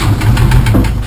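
A BMW petrol/gas engine running loudly up close, a rough, steady mid-pitched rumble with a faint rhythmic pulsing, in a short burst with no talk.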